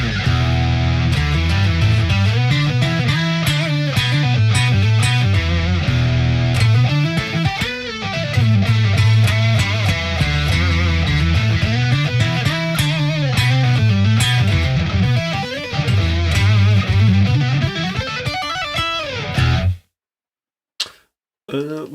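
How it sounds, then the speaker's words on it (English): Loud, continuous bass line from a guitar set up to play a bass sound, looping steadily with a repeating low pattern for about twenty seconds before cutting off abruptly. "this is the guitar bass"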